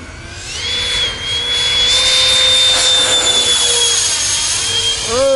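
An 89mm ducted fan model jet spools up to a loud, steady high-pitched whine and takes off at an airport, the tone holding then sweeping as it climbs away.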